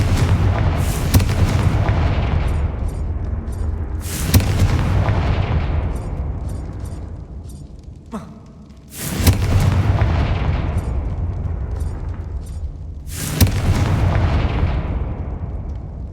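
Heavy blasting-spell explosions from the Hogwarts Legacy game hit in four loud booms, each a sharp crack followed by a long decaying rumble, with faint crackles between them.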